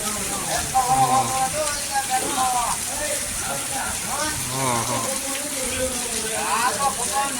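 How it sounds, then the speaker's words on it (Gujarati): Steady rain falls on surfaces in a village, a continuous close hiss and patter, with people talking over it throughout. "વરસાદ આવ્યો કેવો ચાલુ છે વરસાદ"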